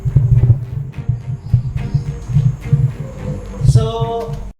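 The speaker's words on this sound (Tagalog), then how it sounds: "Tumutunog yung REM pad." An REM pad ghost-hunting device sounds inside an abandoned factory in Valenzuela, giving off a close, pulsing low throb in a steady beat-like rhythm, with a brief higher electronic tone near the end before it cuts off.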